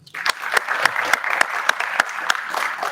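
A hall audience at a competition final claps for a named contestant, the applause starting abruptly and continuing as an even, moderately loud patter of many hands.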